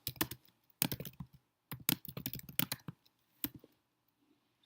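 Keys on a computer keyboard are typed in quick bursts separated by short pauses, with clicky, close-up keystrokes and a few isolated taps near the end, and no voices.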